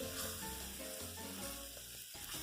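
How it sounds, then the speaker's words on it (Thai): Beef stir-fried in a little coconut milk in a pan for Thai green curry, a steady close sizzle and frying hiss that runs without pause, with faint stirring scrapes and no voices. "ใส่เนื้อลงไปนะคะ แล้วเราก็รวนกับกะทิ"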